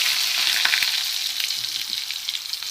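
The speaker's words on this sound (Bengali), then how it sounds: "পটলটা ভাজা ভাজা হোক" Pointed gourd sizzles steadily in hot oil with bay leaf and panch phoron for a vegetarian dalna, a dense close frying hiss with faint crackles, no talking.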